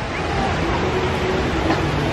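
A train passes at Walt Disney World in Orlando, a steady broad rumble with rail clatter holding constant throughout, fairly close and continuous.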